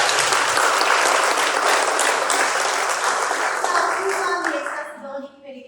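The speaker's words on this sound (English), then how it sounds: "can you just make yourself known by maybe clapping your hand or waving your hands" Members of an audience at an opening-night gallery event clap their hands in a dense burst of applause that gradually thins and fades toward the end, with faint voices mixed in.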